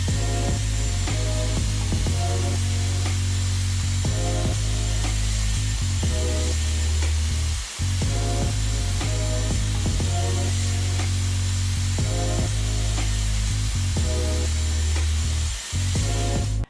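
A Dyson Airwrap styler blow-dries hair up close with a steady, loud motor whine and rushing air, its pitch wavering in repeated passes with brief dips as it is moved through the hair.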